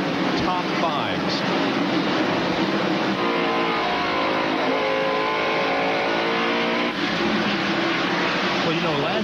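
NASCAR Winston Cup cars race at Bristol during the 1994 night race, a continuous loud roar of engines with rising and falling whines from the pack as they circle, while commentators talk over it.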